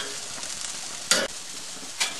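Chicken wings for Asian chili wings sizzle in hot oil as each is turned, with a few short bursts of crackling spatter over a steady frying hiss.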